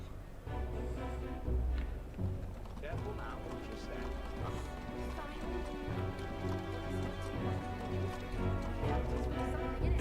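Rhythmic horse hoofbeats clip-clop steadily under a video game's music backdrop, with speech in the mix and occasional crashing sounds.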